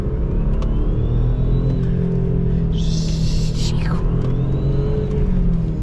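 Audi S4 B5 engine droning steadily while driving through a forest, a continuous loud rumble with rising revs and a brief hiss partway through; speech may be faintly mixed in.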